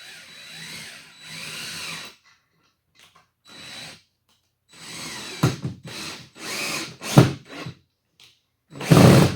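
A power drill tries to drive a screw into a wooden pool deck in bursts, whirring in short runs separated by pauses, with stronger, louder spurts toward the end.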